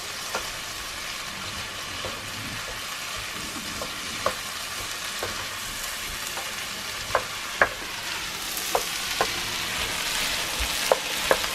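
Vegetables sautéing in a pan for a corned beef hash stew, a steady bright sizzle with scattered sharp ticks and pops from stirring, moderately quiet with no talk.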